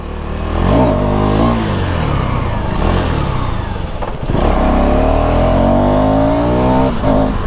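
KTM Duke 390 motorcycle with a 350cc engine accelerating hard at high revs, a loud, close engine roar climbing in pitch through gear changes, with a brief dip before it revs up again.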